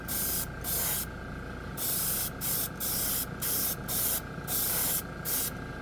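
Montana marble effect spray paint cans hiss out in repeated bursts, about nine short and long sprays separated by brief pauses, loud and close.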